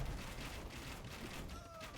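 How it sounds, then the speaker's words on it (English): Bombard cannon and trebuchet fire in an Age of Empires 2 battle, a dense rumbling barrage of booms and impacts layered with constant battle noise and game effects. "Nice shot from DauT against the Bombard Cannons from TaToH."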